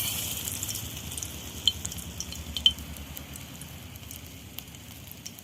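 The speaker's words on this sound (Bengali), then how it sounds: "এরকম বল বল করে আমি এবার তেলে দিয়ে দেব" Soybean kofta balls dropped into hot oil for a kofta curry, a soft continuous sizzle and crackle with a couple of small pops, fairly quiet and steady.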